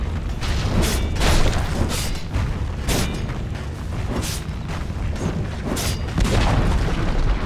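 Dire's middle tower crumbling in a Dota 2 ranked match, heavy booming crashes and rumbling impacts repeating every second or so over a dense, noisy game soundscape.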